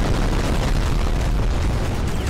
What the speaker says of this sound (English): Those are big explosions you got there